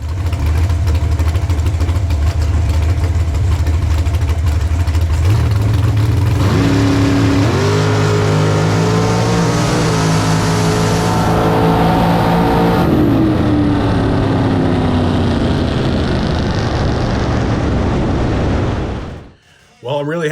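Dragsters at a bracket drag race idle and rumble loudly before an engine revs hard and roars off the line, the pitch climbing through gears before cutting off near the end.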